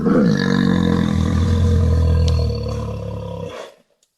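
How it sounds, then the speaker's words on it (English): A recorded bear's deep, rumbling growl-roar, loud and sustained for a few seconds before cutting off abruptly. "They played a recording of a bear growling."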